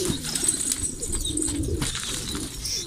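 Pigeons, some with taped wings, coo softly in a loft, low repeated calls with light rustling and faint chirps, close by and without talk.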